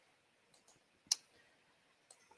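Computer mouse clicks while working in a cloud development web interface: a single sharp, near click stands out, with a few fainter clicks before and after in a quiet room.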